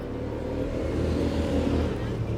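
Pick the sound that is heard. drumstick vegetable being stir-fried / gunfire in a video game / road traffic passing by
road traffic passing by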